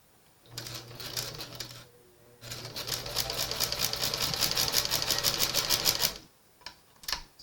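Sewing machine stitching sequined headband fabric, two bursts of rapid rhythmic needle clatter, the second longer and louder, with a short pause between and faint handling after.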